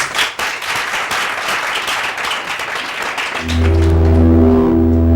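Audience applause at a French television variety show, loud dense clapping for several seconds that gives way to a swelling musical introduction.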